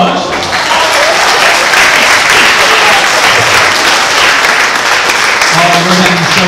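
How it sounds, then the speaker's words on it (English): A college audience claps loudly and steadily for several seconds at a live comedy and hypnosis show, with dense, sustained clapping close to the listener and faint crowd voices mixed in. "Give him a round of applause"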